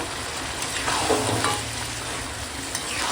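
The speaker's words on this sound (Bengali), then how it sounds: "সরিষার তেলে খাসির মাংস কষাচ্ছি এখন" Mutton frying in mustard oil with turmeric, Kashmiri chili powder and salt, a steady close sizzle with scraping stirring strokes throughout and no talking.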